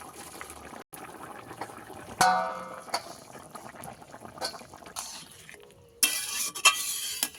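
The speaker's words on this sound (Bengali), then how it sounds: "সবজি ভালো করে কষানো হয়ে গেছে, দিয়ে দেবো জল।" Water is poured into a pan of sautéed pumpkin and vegetables, ending in a loud hissing splash after a stretch of quieter stirring and clatter.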